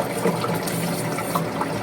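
Water pours from a household tap in a steady, loud, close rush that continues without a break, with no talking over it.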